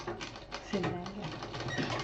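A sewing machine stitching a foldable fabric hanging pouch, giving a quick run of rattling needle strokes close by while someone talks over it.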